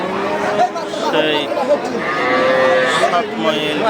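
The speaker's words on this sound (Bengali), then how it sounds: "সুন্দর একটি বাছুর" A calf at a busy Bengali cattle market, where Friesian bull calves are on sale, moos in several drawn-out calls amid a loud crowd of chattering voices and market bustle.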